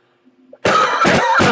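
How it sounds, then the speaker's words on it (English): A few harsh, loud coughs close to the microphone, three bursts in quick succession after a brief quiet moment. "hitting the dry spot and making me cough"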